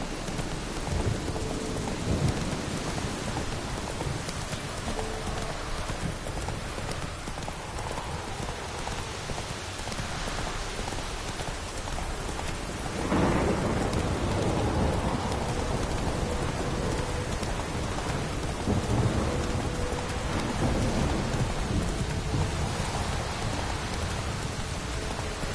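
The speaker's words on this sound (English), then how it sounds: "Lightning strike." Thunderstorm in a video game: steady, heavy rain pours throughout, with a louder lightning crack and rumbling thunder about midway, and no voices.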